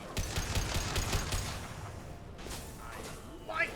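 Rapid bursts of video game gunfire rattle in the first half, thinning out into scattered shots and whooshes, with voices talking over the action.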